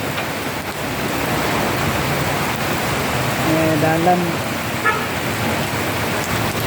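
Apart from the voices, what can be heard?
rain falling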